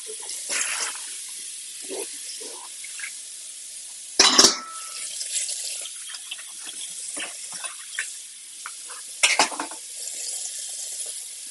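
Fruit rinsed under a running kitchen tap, a steady hiss of water into the sink with brief louder splashes and clatters as the pieces are handled, close by and without talk.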